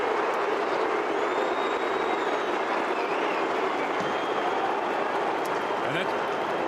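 Collingwood fans booing across a packed stadium at an AFL match against St Kilda, a sustained roar of crowd disapproval that holds steady throughout.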